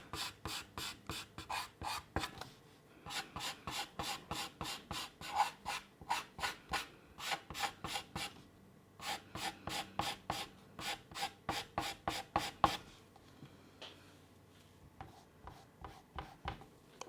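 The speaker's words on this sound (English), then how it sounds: "Erasing the graphite lines." Graphite pencil lines being erased from drawing paper during a pastel pencil fur drawing, fast rhythmic back-and-forth rubbing strokes in close, crisp bursts with brief pauses between runs.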